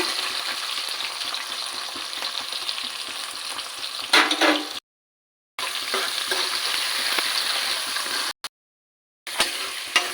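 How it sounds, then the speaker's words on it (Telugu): Onion pieces with green chilies frying in oil in a pan for a bitter gourd masala curry, a steady close sizzle broken by two abrupt silent gaps, with a brief louder stirring scrape partway through. "ఒక 5 minutes ఈ ఉల్లిగడ్డ ముక్కలు కొంచెం దూరగా వేగేంత వరకు కూడా మనం వేయించుకోవాలి"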